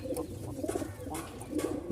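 Giribaj pigeons coo in soft, low, repeated throaty calls at close range, with a faint bird chirp mixed in and light background murmur.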